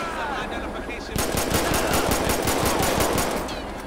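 Rapid automatic gunfire from a weapon in GTA V with the LSPDFR police mod, a steady burst of loud, evenly spaced shots lasting a couple of seconds over game ambience during a sheriff's traffic stop in Blaine County.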